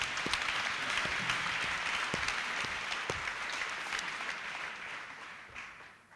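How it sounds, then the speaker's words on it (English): Audience members at a debate event at the Apartheid Museum applaud themselves, a full, even burst of clapping with a few louder hand strikes up close, slowly fading toward the end. "give yourselves a round of applause"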